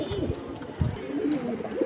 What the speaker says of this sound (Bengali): এটা বেজি গলা কবুতর